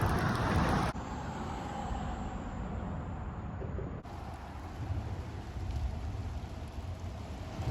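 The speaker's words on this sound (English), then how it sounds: "just the water being pushed off of the roads, making all the splashes" Water sprayed off a wet road under a bridge, a broad rushing hiss of splashes from passing traffic that cuts briefly and returns, steady and fairly distant.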